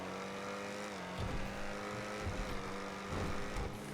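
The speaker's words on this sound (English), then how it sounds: "It does sound like a performance diesel, doesn't it?" The Ocelot XA-21 sports car engine in GTA V idles with a deep, gruff harmonic rumble like a performance diesel, revving up briefly a few times in short bursts.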